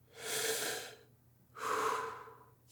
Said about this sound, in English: place your hands on your front ribs here and breathe to your hands